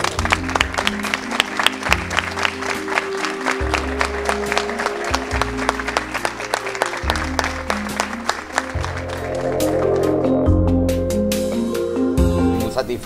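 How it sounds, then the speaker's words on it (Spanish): An audience in Ubrique applauds at a ceremony for the restoration of the town's Calvary chapel: loud, sustained clapping from a crowd that runs for the whole stretch and swells slightly toward the end. "le damos un agradecimiento y un aplauso fuerte para él"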